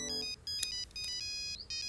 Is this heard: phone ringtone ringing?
yes